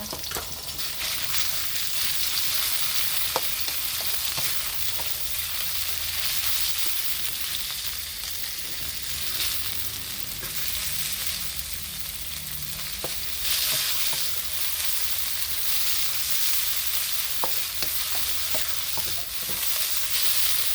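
Marinated pork sizzles and crackles steadily in a hot wok with garlic and pork sausage while being stir-fried for a small rice noodle dish, with occasional sharp spatula scrapes and taps over continuous loud frying.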